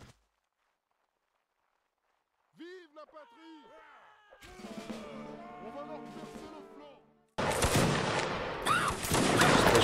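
Gunfire from the Napoleonic Wars game: after players talk over quiet background noise, a loud, crackling burst of musket fire breaks out near the end and continues.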